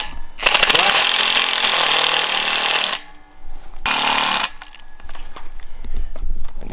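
A power drill driving screws through fence support wire clips on house yard fencing, two loud sustained buzzing bursts with a brief pause between, then quieter handling noise afterward.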